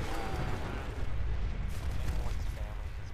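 A mini nuke detonates in Fallout 4, a deep rumbling blast that fills the clip with a sustained roar and fading debris noise.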